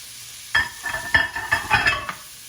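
Onions and peppers hit a hot pan for a Cajun salmon pasta, setting off a sudden sizzle with a few bursts of scraping and clatter as they are tossed in, close and fairly loud.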